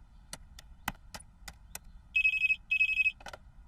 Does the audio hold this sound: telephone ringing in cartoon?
yes